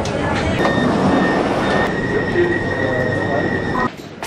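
A Milan metro train rolls into the station with a loud rumble and long high-pitched wheel squeals, the noise dropping off sharply near the end.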